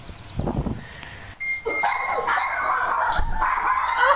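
A big, tall dog barks and yips excitedly, with short whimpering cries, close by and fairly loud, among the noise of a welcome-home gathering for soldiers.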